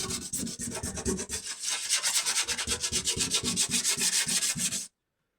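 Rapid rhythmic hand sanding scrapes across corroded Peugeot 205 car body panels, a close, steady rasping of strokes that stops abruptly near the end, with no talk.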